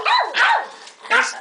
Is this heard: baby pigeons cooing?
no